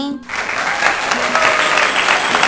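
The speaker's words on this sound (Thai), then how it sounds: "ปรบมือให้ตัวเองหน่อย" Children clap together in a quick burst that starts abruptly and holds at a steady, bright, dense level for a couple of seconds, with a voice briefly audible at the start.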